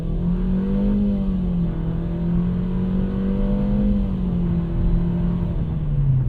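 A 2025 Nissan Versa with a 122-horsepower engine accelerating from a standstill in sport mode, a loud steady engine drone whose pitch holds and slowly shifts, close and continuous without speech.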